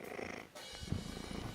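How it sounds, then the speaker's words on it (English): A cat named Tig purrs in the visual novel game Ristorante Amore, giving a faint, low rumbling purr with a slight pause early on. It sounds close but quiet. "I just picture this gigantic cat because of how loud Tig is"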